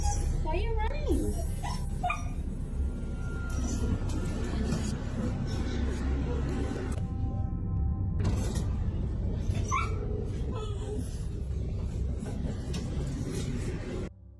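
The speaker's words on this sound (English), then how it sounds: "The family dogs started acting like they were disturbed by something unseen." Family dogs whimper, yip and bark amid creaking noises in a home, with a constant murmur of background sound and people talking over parts of it.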